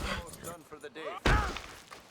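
Red Dead Redemption 2 horse stumbling over a rock and throwing its rider into a tree limb, heard as a sudden loud crashing thud partway through, with game sounds and a voice around it.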